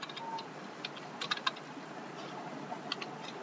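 Someone types on a computer keyboard, giving light, quiet key clicks in an uneven rhythm. A few taps stand out a little louder than the rest over a faint background hum.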